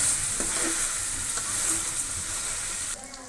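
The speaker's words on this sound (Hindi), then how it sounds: "गोश्त हमारा अच्छे तरीके से फ्राई हो रहा है" Mutton pieces frying in a karahi pan, a loud dense sizzle that runs steadily up close, with scraping stirs now and then and a sudden drop in intensity near the end.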